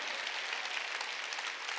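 A church congregation at a Wednesday worship service claps steadily, a continuous wash of many hands with no pauses, moderately distant and even in level.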